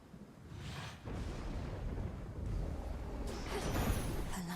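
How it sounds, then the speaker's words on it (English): A lightning sigil's thunder effect rumbles through the Hades II video game, a dense, steady roar that swells louder in two stages, with crackling bursts near the end. "The lightning sigil."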